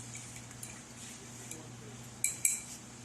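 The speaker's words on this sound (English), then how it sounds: "give it a little stirry stir" A spoon stirs a mezcal cocktail in a glass, giving a few faint taps and then two sharp, bright clinks near the end over a quiet low hum.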